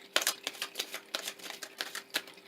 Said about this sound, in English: in order to get a good complete shuffle of each deck